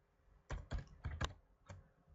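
Five distinct close keystrokes on a computer keyboard while entering Alt code 0169, clicking in an uneven rhythm in a quiet room.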